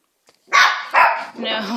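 A papillon dog barks close by, giving two sharp, high yapping barks followed by a longer, whinier yip.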